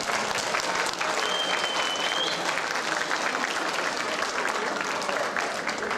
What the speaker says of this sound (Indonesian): Tepuk tangan kita untuk itu.